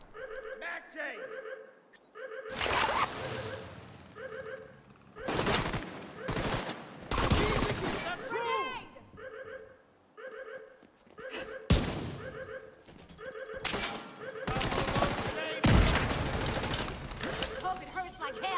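Bursts of automatic gunfire from a Division 2 firefight, loud rapid volleys broken by short pauses and clinking reload sounds, with in-game voices calling out between the shots.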